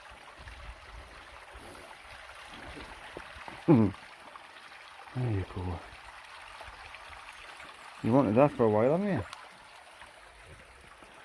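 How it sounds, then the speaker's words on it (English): A small waterfall in Dipton Woods, Northumberland, gives a constant soft rush in the background, while a person speaks briefly over it in a few short phrases. "That lovely little waterfall."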